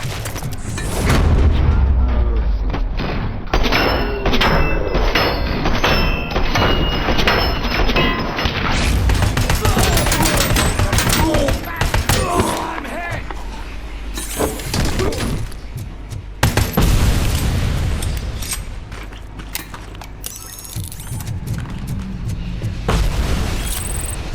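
Grenade blasts and gunfire in the video game RoboCop: Rogue City, repeated heavy booms, crashes and thuds mixed with rapid shots, loud and chaotic throughout, with occasional voices under the action.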